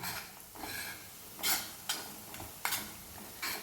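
A chili, coriander and mint mixture being stirred into puffed rice, heard as soft close rustling with a few sharp scraping and clinking accents spaced about a second apart.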